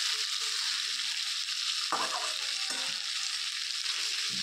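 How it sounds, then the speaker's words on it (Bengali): Chicken kosha fries in a pan with a dense, even hiss as a spatula stirs it, a couple of distinct scraping strokes standing out from the steady sizzle close up. "খুন্তি করে এভাবে তাও আমি একটু নেড়ে টেড়ে নিয়ে আবারও ভালো করে এটাকে কষিয়ে নিচ্ছি"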